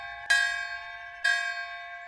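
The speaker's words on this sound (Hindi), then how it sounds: "रात को गांव के मंदिर में घंटियां बजने लगी।" Village temple bells at night ring out as two separate bright metallic strikes about a second apart, each one ringing on and fading slowly, clear and close against a quiet background.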